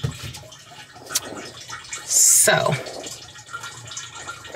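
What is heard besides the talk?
water draining into a container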